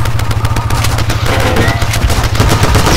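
Rapid, continuous gunfire from the Cortex Command video game, loud and dense, with a steady low thump beneath bursts of shots throughout.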